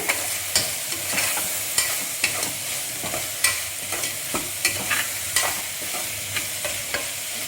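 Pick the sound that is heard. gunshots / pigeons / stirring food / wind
stirring food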